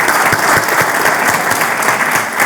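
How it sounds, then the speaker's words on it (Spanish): An audience at a Teverga Solidaria charity presentation gives loud, sustained applause, with many hands clapping in a dense, steady wash and a few sharp individual claps standing out. "Así que pido un aplauso para todos los que participáis dentro de Teberga Solidaria"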